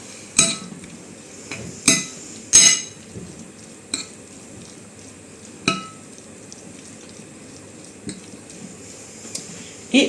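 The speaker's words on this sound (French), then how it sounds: "On va remuer tout ça." Chicken and potatoes are stirred in a slow cooker. A utensil clinks and scrapes against the pot in a few sharp knocks, louder early on, then scattered softer taps over a quiet background.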